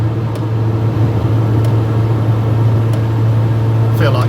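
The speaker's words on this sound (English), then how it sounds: "I can put my foot down and that is accelerating really well" Interior drone of an Austin Allegro at about 55–60 mph as its engine accelerates under full throttle, a loud steady low hum with road noise throughout, a few faint clicks and a brief voice near the end.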